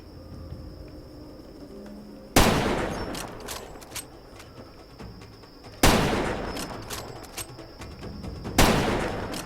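Gunfire from a player's weapon in a video game: three sharp, loud bursts of shots, each fading into a rattling tail, spaced a few seconds apart with no talking.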